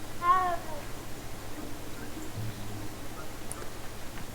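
A single short cat meow near the start, clear and close, from a cat being petted in the Hogwarts Legacy video game, followed by quiet background hum.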